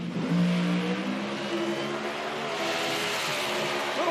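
An IHRA Outlaw Nitro drag racing car at Dunn, NC roars loud and steady down the strip, its engine note holding high and continuous for the whole stretch with a slight pitch rise, heard alone without talk.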